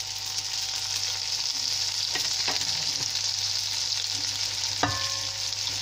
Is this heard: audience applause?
no